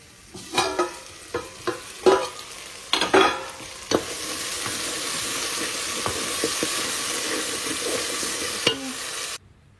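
Tempering in a pan for avarekalu dal: a series of sharp clatters and pops at first, then a steady close sizzle that cuts off abruptly at the end.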